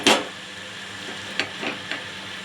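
Ghee being mixed into cooked rice in a pan, heard as a soft steady sizzle with a sharp scrape at the start and a few lighter spoon scrapes spaced out after it.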